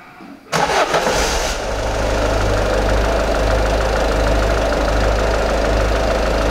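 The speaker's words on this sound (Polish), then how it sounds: "Dobra, możesz odpalić jeszcze, zobaczymy, jak to chodzi." A petrol 1.4 16V four-cylinder engine in a Golf cranks and catches after about half a second, then settles into a steady, loud, close idle with a low hum and faint ticking, with no talk.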